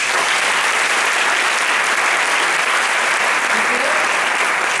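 A conference audience claps loudly and continuously, a dense wash of applause that holds at an even level from start to finish with no pause.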